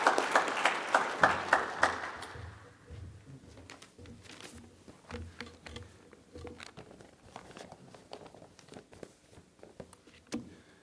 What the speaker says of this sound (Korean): 그럼 박수로 한번 환영해 주시기 바랍니다.